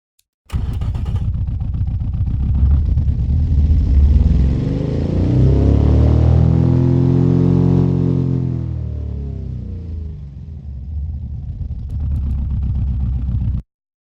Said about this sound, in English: Boxers have such a unique engine sound.